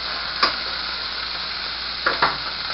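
Chunks of beef chuck brown in a hot pan with a loud, continuous sizzle. Two or three short scraping bursts come as the meat is stirred and flipped.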